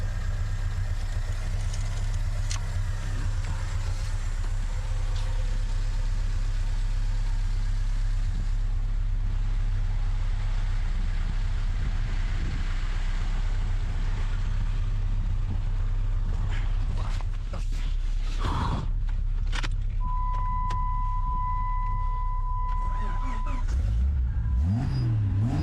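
An abandoned, long-neglected RC monster truck's engine running with a steady, droning hum throughout, with rising whines and a sustained tone near the end, close and loud with no talking.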